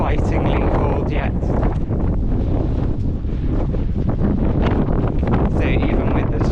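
Strong wind batters a microphone outdoors on a coastal walk between Wadebridge and Newquay in Cornwall, producing a constant loud, rumbling roar with gusty surges and no clear pause.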